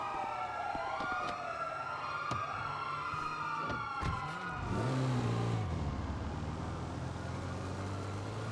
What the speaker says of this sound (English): City of very loud sirens in one area.